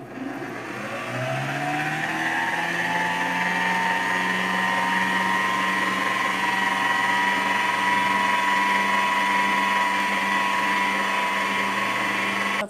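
Electric hand mixer beating a whole-grain, lactose-free peanut cake batter just after baking powder goes in, a steady loud whirring motor drone that ramps up in pitch at the start and holds evenly throughout, with no talk.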